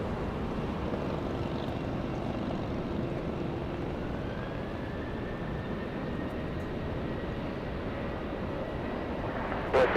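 A jet airliner rumbles steadily at Los Angeles International Airport during runway operations, a continuous broad roar that holds at moderate distance for the whole span with no talk over it.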